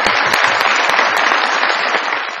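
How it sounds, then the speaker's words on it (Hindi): A TV comedy show audience gives loud, sustained applause for actor Shamoon Abbasi, a thick burst of clapping close to the microphone that stays full throughout. "बहुत सारी तालियां भी शमून अब्बासी साहब के लिए।"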